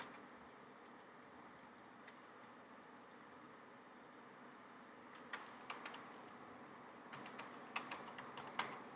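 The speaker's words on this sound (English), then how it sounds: "I have to type all this in now" Typing on a computer keyboard: a background hum at first, then clusters of light, quick clicks in irregular bursts over the last few seconds, near but soft.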